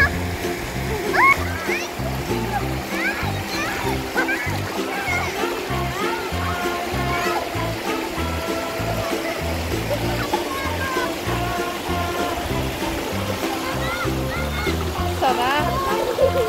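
A strong, shallow river current rushes and splashes steadily close by, with children and adults talking and calling out over the running water throughout.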